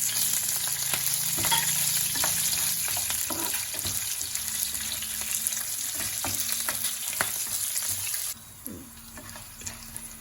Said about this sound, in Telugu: ఇవి కొద్దిగా వేగిన తర్వాత పచ్చిమిరపకాయలు వేసుకోవాలండి.